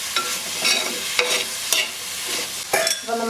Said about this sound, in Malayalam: ഈ തേങ്ങാക്കൊത്തുകൂടി ആഡ് ചെയ്ത് കൊടുക്കുക. ഒന്ന് മിക്സ് ചെയ്യുക.